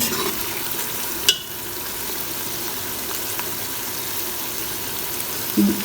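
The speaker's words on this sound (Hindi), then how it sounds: "इसको भी मज़ीद मैं 2 मिनट फ्राई करूँगी।" Beef chana dal masala with garlic and ginger paste fries in a pot, giving a steady close sizzle and hiss, with a sharp clank near the start and another near the end.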